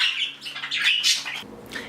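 Pet birds in an indoor bird room give a quick run of shrill chirps and squawks, close and fairly loud, with a rustle of movement near the end.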